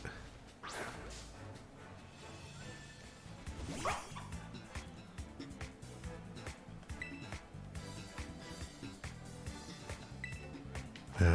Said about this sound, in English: This dog.